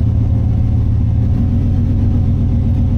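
A car engine with freshly swapped fuel injectors and no hood runs close and loud with a deep, steady rumble as it pulls away for a drive.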